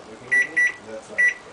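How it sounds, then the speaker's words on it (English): An oven's control panel gives three short, clear electronic beeps in a quick uneven rhythm while the oven is being set to its lowest bake setting, with a quiet kitchen behind. "I'm going to turn my oven on to bake onto the absolute lowest setting that it has."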